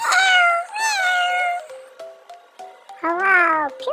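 A cartoon cat meows repeatedly, a series of loud, close, drawn-out tonal mews with rising and falling pitch, the last one longest and most insistent.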